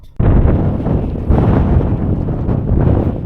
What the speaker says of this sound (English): it's a bit too windy, so we won't be snorkeling yet